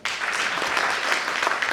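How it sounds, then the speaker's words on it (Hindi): Audience applause for Virat Kohli at a training event in a Meerut hotel hall, a dense, steady round of clapping that holds evenly for under two seconds with no voices over it. "विराट कोहली के लिए जोरदार ताली।"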